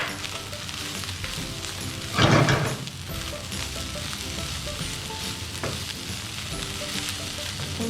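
Finely chopped vegetables including chillies and carrot sauté in a hot pan with a loud, steady sizzle, broken once by a brief burst of stirring around two seconds in, heard up close without speech.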